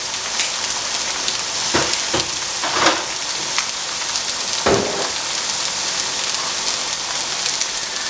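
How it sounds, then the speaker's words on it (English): Water poured into a hot frying pan used for Chinese-Indonesian fried noodles with meatballs sizzles loudly and steadily, a close, dense crackle with a few sharper pops, with no talking. "now let's add some water, deglaze this pan, and add our sauces"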